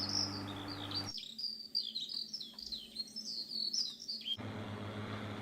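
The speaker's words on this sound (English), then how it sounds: "those birds were loud in the cab there" Birds chirp loudly and repeatedly in a game tractor cab, bright tweets running over several seconds between stretches of steady engine hum.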